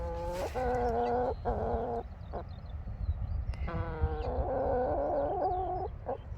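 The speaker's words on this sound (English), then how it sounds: "The chickens are waiting for breakfast." Several chickens cluck and squawk in bursts, close by, with a steady low outdoor rumble underneath and faint birdsong in the background.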